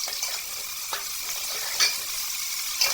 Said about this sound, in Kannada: ಈರುಳ್ಳಿ ಎಲ್ಲ ಒಂದು ಸ್ವಲ್ಪ ಕೆಂಪಗಾಗೋವರೆಗೂ ಫ್ರೈ ಮಾಡ್ಕೋಬೇಕು